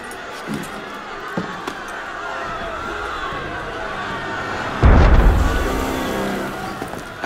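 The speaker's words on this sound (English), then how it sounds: "That was cannon fire." A single heavy cannon boom in Assassin's Creed Unity erupts partway through, with a rumbling decay, over busy game ambience and murmuring voices.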